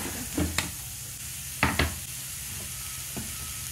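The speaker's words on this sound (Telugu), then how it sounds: "ఇది కూడా వేసేసి కొబ్బరి పచ్చివాసన పోయే వరకు వేగనివ్వాలి" Beetroot curry with ground coconut, salt, turmeric and chili powder sizzles quietly in a pan, broken by a few soft spatula scrapes and taps as it is stirred.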